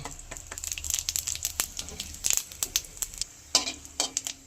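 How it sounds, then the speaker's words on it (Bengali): Whole spices, bay leaf, dried red chilli, cardamom, cinnamon, cloves and cumin seeds, crackling in hot oil, a busy close sizzle with sharp pops and spatter bursts throughout. "এবার তেলে ফোড়ন দেবো একটা তেজপাতা, একটা শুকনো লঙ্কা, একটা ছোট এলাচ, 1 টুকরো দারচিনি, 2টো লবঙ্গ, আর একটু গোটা জিরে"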